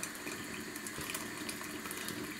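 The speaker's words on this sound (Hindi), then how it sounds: "अब इसमें मैं थोड़ा सा और पानी डालूंगा," Water pours steadily into a pot of thickened Moroccan harira soup, a continuous splashing gush, close and fairly loud with no talk.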